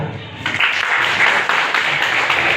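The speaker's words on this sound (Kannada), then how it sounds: "ದೊಡ್ಡ ಚಪ್ಪಾಳೆ" An audience at a village fair debate event bursts into applause, a dense crowd clapping that starts abruptly and carries on steadily, fairly close, with voices mixed in.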